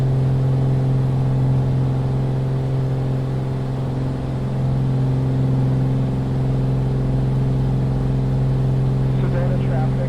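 Steady, droning growl of a BlackSquare Commander 114 piston aircraft engine in a flight simulator game, holding constant at moderate loudness throughout with faint background hum.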